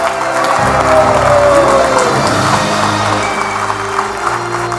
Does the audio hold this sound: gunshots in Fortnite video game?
no